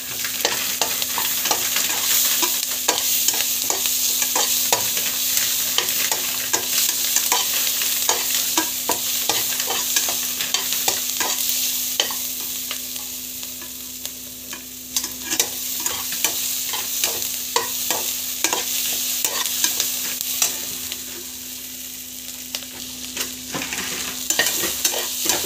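Bay leaves sizzle in hot oil while being stirred in a pan for biryani. A steady close frying hiss runs throughout with frequent spoon scrapes and taps, easing briefly midway, and no talking.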